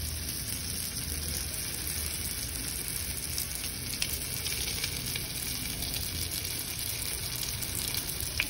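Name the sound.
luncheon meat cheese lumpia frying in oil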